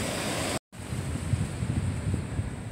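Loud surf breaking on an Indian River County beach in Florida, a steady broadband wash of waves with wind rushing across the microphone, interrupted by a brief dropout of silence near the start.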